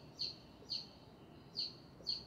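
Four short, high bird chirps in the morning, spaced about evenly apart, faint and a bit distant, over quiet background.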